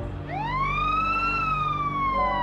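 A wailing emergency siren rises and falls in one long sweeping tone with strong harmonics, loud and continuous over low traffic rumble.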